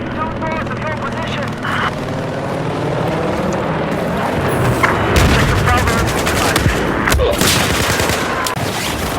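Type 95 Bravo rifle bursts in Battlefield 4 crackle through dense, continuous battle noise, with helicopter and aircraft roar, distant booms and a voice talking over the sustained loud gunfire.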